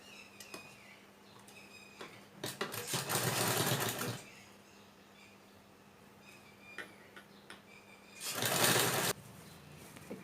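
Two runs of close sewing machine stitching on a blouse, the first for about two seconds and a shorter one later, each a fast rattling whir, separated by quiet ticks and handling noise.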